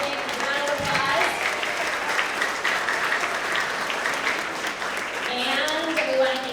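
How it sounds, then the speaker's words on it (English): An audience applauds a school team's coach, a dense, steady burst of clapping from a crowd in a room, with voices talking over it at the start and end. "So give Mrs. Spillane a round of applause."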